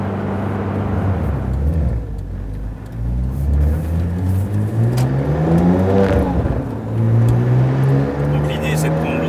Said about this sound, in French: Pour accélérer, la voiture repart sur un filet de gaz.